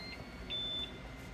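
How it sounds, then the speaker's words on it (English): A single short electronic beep from a MakerBot Sketch Large 3D printer, heard alone and fairly faint over a low room hum, lasting about a third of a second. "Wow, it has a little beep on there."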